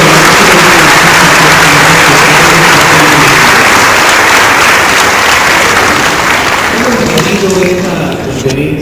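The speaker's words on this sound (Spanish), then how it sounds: "vamos a enviarle un fuerte aplauso para que se reponga pronto" A lecture audience gives a strong, sustained round of applause for Miguel León Portilla, dense loud clapping filling the room evenly before thinning slightly toward the end.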